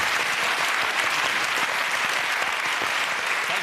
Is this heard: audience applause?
yes